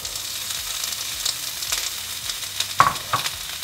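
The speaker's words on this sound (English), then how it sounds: "We're gonna start by putting a little olive oil in the bottom of the pan. And we're cooking down the leeks" Leeks cooking down in a little olive oil in a pan give a soft, steady sizzle, broken by a few stirring scrapes and clinks near the end.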